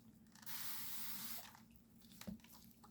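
A short, steady hiss of a spray bottle of isopropyl alcohol lasts about a second, followed by quiet handling noises and a faint clunk.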